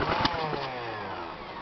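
A small snow blower engine turns over and sputters, a few rough firing bursts followed by the steady whir of an electric starter motor, close and loud, with no talk.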